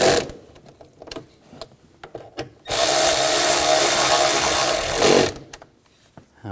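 A power tool on a 2007-2013 BMW X5 3.0L inline-six whirs steadily for about two and a half seconds, tightening bolts during a crankshaft position sensor job. Shorter clicks and handling noises come before and after the run.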